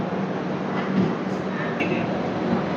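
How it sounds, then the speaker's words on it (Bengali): Garib Rath Superfast Express 12881 pulling out of platform 2 at Shalimar station, bound for Puri, with a steady low rumble of the train and station ambience throughout, loud and continuous with no clear voices. "ফাইনালি কিন্তু আমাদের শালিমার স্টেশনের 2 নম্বর প্ল্যাটফর্ম থেকে ছেড়ে হচ্ছে 12881 শালিমার পুরী গরিবরথ সুপারফাস্ট এক্সপ্রেস।"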